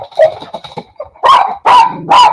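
Dogs barking outdoors beside a hover mower working in tall grass: quieter chattering sounds, then three loud, close barks in quick succession.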